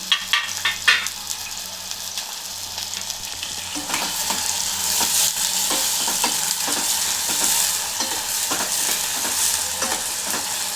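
Onions frying in plenty of oil for a dried bommidai fish curry give a steady, close, loud sizzle. Repeated scraping stirs run through it and no one speaks.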